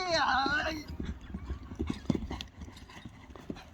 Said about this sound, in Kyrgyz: Мына достор, кийинки ат келет азыр.